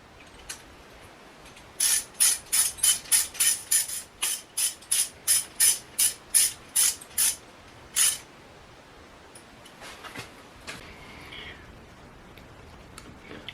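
A ratchet tightening camshaft fixing bolts on an engine: a quick run of about fifteen crisp, evenly paced clicks, close and fairly faint, then a few scattered light mechanical taps.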